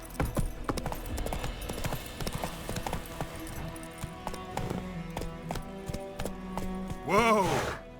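Hooves of Roach, the horse in The Witcher 3, clip-clop in a fast galloping rhythm over game music, ending in a loud whinny near the close.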